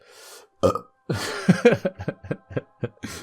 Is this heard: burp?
yes